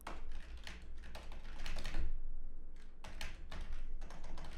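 Steady, close keyboard typing with dense clustered keystrokes throughout, briefly thinning near the three-second mark, from someone coding a MySQL connection log on a computer keyboard.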